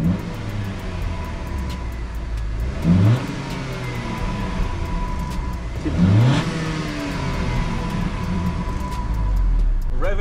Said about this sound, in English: We're gonna rev the car for a little bit so you guys can hear it.